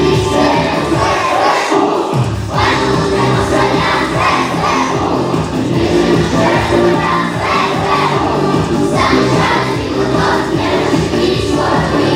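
A hall audience at a local patriotic concert applauds and cheers loudly and continuously, with dense clapping and shouts filling the room throughout and no speech over it.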